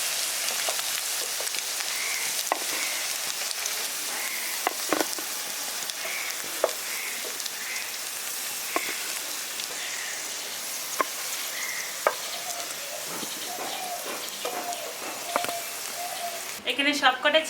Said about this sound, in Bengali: বাকিগুলো আমি সেমভাবে আবার ভেজে নিচ্ছি